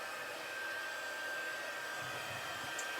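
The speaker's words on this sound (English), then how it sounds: "get your heat tool, get it nice and hot" A crafting heat tool blows hot air in a steady, fairly quiet whir that holds without a break.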